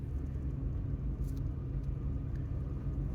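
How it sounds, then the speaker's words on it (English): Interior of a manual Nissan Xterra driving along, a steady low engine and road rumble filling the cabin with no talking. "Alright, so we're chugging along in the Xterra right now."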